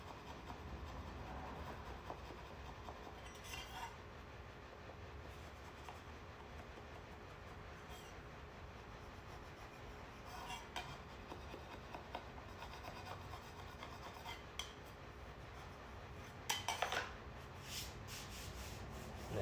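A moon knife shaves excess heat-weld rod off a linoleum floor seam, making a faint, steady rubbing scrape with a few brief sharper scratches near the end.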